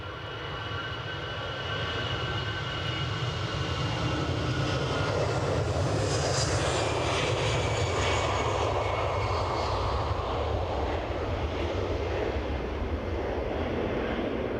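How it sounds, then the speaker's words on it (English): A plane departing Edinburgh airport roars loudly and steadily, its engine noise rising to a peak in the middle and holding a strong, broad rumble with a whining tone throughout. "departing plane. Somebody's on finals too."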